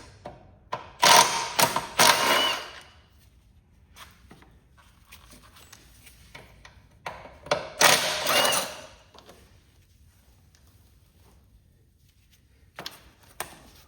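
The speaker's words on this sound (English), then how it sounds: "We're going to use a ratchet wrench here." A ratchet wrench backs out 9/16 firewall bolts on a Cub Cadet 1864 plow tractor with a Kohler motor. Two close bursts of rapid clicking ratcheting stand out against quiet, with a few scattered taps.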